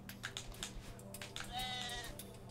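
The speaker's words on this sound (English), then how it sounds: "Why is there sheep in the background?" Sheep bleat faintly in the background of a video game, one drawn-out bleat standing out, amid soft clicks and low ambient hum.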